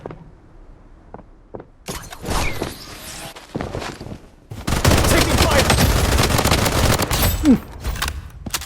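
Gunfire in the mobile shooter game Bloodstrike: a few isolated shots early, then dense, sustained bursts of automatic fire over the last few seconds, loud and close.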